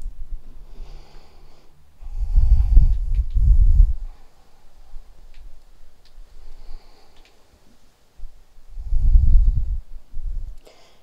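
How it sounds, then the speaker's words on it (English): Deep breathing in a yoga forward fold, two slow heavy breaths spaced apart, close and rough-edged against near silence. "we'll take two deep breaths here"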